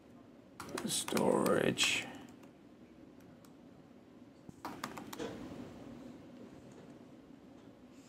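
Computer keyboard keys tapped during a NetApp OnCommand Insight software demonstration, a short cluster of clicks mixed in with someone speaking nearby, followed by quieter scattered clicks.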